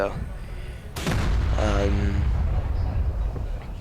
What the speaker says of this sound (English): now it's about to explode